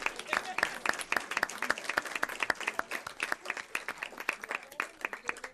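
An audience at a school board meeting applauds Transportation Apprentice Program graduates: steady, dense clapping from a roomful of people, moderately loud and sustained throughout without letting up.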